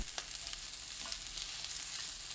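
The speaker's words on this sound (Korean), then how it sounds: "팬에 배추 줄기 부분, 식용유 1큰술 넣고 센 불로 2분 볶아주세요" Napa cabbage stems stir-frying in a tablespoon of cooking oil over high heat, a steady close crackling sizzle with a few sharp pops, no voices.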